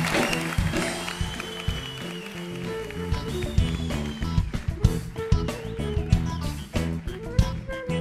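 Turkish talk-show studio audience applauding as a guest and her father are welcomed on stage, with loud band music and rhythmic hits playing over the clapping throughout.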